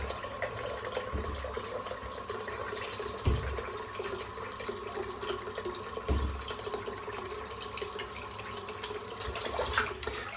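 Tap water runs steadily while a Muhle R41 safety razor with a Feather blade is rinsed under it, a continuous close hiss of flowing water with a few brief louder splashes as the razor passes through.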